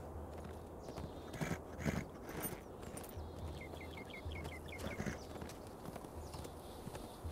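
Horse hooves clip-clop at a walking pace in Lord of the Rings Online, a steady rhythm of fairly close steps over faint game ambience and a brief bird call.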